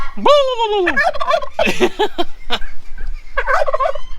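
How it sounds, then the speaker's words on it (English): A turkey gobbles loudly and close, a rapid rattling call followed by several more warbling bursts. "You old jive turkey."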